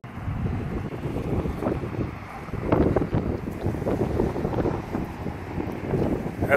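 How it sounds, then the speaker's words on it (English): Heavy wind buffets the microphone in continuous low rumbling gusts, loud and close, with no clear voices. "Very windy today, so"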